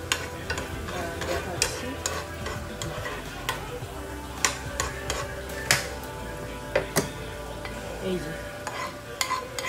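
Cumin, dried chili and garlic fry in ghee in a pan with a steady close sizzle, broken by sharp clicks and scrapes of stirring, while a voice speaks briefly.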